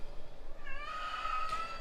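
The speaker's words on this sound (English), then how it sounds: "that's my cat" A house cat meows once, a drawn-out rising-and-falling cry, close and fairly loud over a low background hum with no talking.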